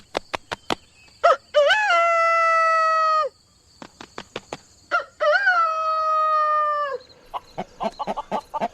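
A rooster crows twice, each long drawn-out call preceded by a burst of sharp flapping or clucking, with more short clucks between and after the crows, close and loud with no talk.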